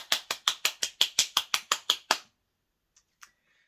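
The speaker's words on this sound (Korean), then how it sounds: "우리 김유림에게 격려하는 박수를 합시다" A church youth group gives applause of encouragement to a member as a dozen sharp, evenly spaced claps in a steady rhythm, then stops abruptly, followed by two faint taps in near silence.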